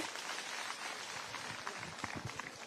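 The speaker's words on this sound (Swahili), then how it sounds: "Tumkaribishe kwa makofi" An audience at a girls' high school event in Kwale County applauding to welcome a speaker, with steady, fairly faint clapping from a crowd that carries on throughout.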